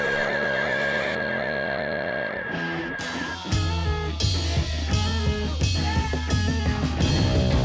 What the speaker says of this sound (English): Give me the horse noise.